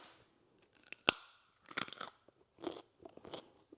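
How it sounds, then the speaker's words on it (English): A raw, unpeeled homegrown carrot is bitten with one sharp snap, followed by several bursts of crunchy chewing, up close in otherwise quiet surroundings. "And so let's take a crunch."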